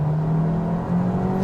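A 2025 Hyundai Kona Limited AWD's turbocharged engine pulls under acceleration, a steady close-up drone with a slight rise in pitch and no talking.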